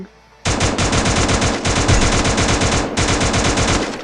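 Rapid automatic gunfire from the Free Fire mobile shooter game, loud and close, in long sustained bursts with a brief break near the middle and no talk over it.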